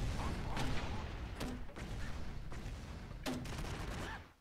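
Broforce grenade launcher fires in several heavy booming shots, spaced about a second or two apart, over a steady wash of game noise and explosions.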